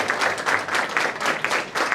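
Rhythmic group clapping at a national conference hall, the audience striking hands together in a steady, even beat, close and fairly loud.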